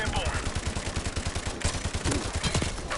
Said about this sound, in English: Oh my god, why is the recoil on this gun so hard?